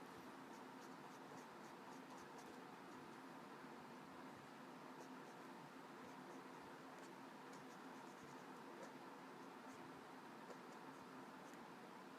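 Copic markers glide and scratch across paper while colouring skin tones on a comic drawing, a faint, continuous stroking hiss with small repeated squeaks, steady and quiet throughout.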